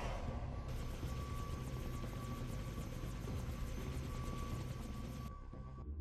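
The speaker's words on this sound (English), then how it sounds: "That beat up helicopter." A battered helicopter in the video game Far Cry 3 whirs with a steady, dense rotor chop and engine roar that stays loud and constant, with a faint steady tone running through it before it tapers slightly at the end.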